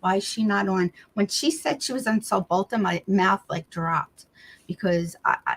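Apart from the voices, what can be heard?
None of the usual background noises is heard.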